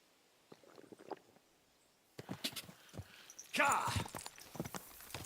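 A horse's hooves clop at a walking pace in the medieval video game Kingdom Come: Deliverance II, soft, close and uneven, mixed with someone talking over the game.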